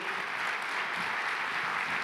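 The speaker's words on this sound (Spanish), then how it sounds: "Dale un fuerte aplauso al Señor." A church congregation applauds loudly and continuously, a dense wash of clapping filling the whole moment without pause.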